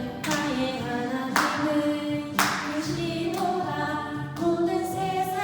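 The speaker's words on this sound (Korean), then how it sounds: "다 같이 박수 치면서 찬양할게요." A congregation at a children's Sunday worship service claps in a steady rhythmic beat while singing a praise song, sharp hand claps recurring about once a second over the sung melody.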